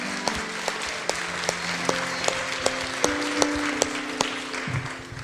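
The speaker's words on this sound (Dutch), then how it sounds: "geef Christus Jezus een applaus." A church congregation applauds during a live worship service, with brisk, fairly steady clapping under a sustained ringing musical tone and sharp individual claps standing out at regular intervals, at moderate volume.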